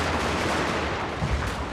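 Musket volleys in a Total War Shogun 2 battle, a dense continuous crackle of distant gunfire blending into a rumbling roar, loud and unbroken.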